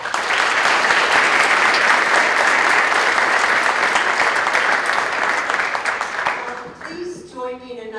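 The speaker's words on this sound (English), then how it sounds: "Please join me in another round of applause" An audience honoring a Holocaust survivor claps loudly in a dense, sustained burst of applause that tapers off near the end as a voice begins speaking.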